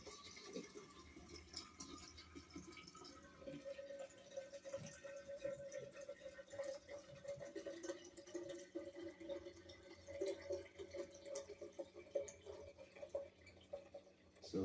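Watermelon juice drains through a small kitchen strainer, giving a steady close trickle and patter of liquid with scattered drips, continuous for the whole stretch at low level.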